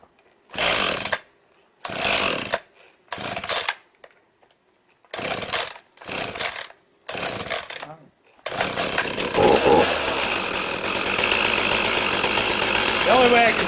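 Chainsaw trimming wood for a wilderness shelter: about seven short, loud revving bursts separated by silence, then a sustained roar of continuous cutting to the end.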